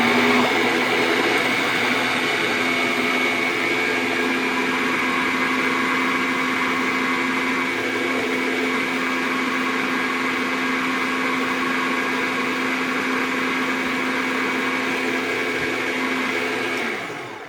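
A fruit soft serve maker churns banana and strawberries, a loud, steady motor whine with a grinding texture that runs continuously before winding down at the end.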